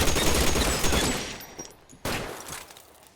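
Gunshots in a first-person shooter video game, a dense burst of loud rapid fire that fades and is followed by one more sharp shot.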